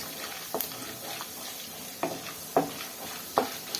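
Cashews fry in hot oil for uppittu, a soft steady sizzle with a few brief stirring scrapes and clinks from the pan, fairly quiet and close.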